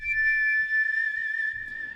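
Whistle voice on a Korg Pa5x arranger keyboard holds one steady, pure, high sustained tone, clear and close with no talking.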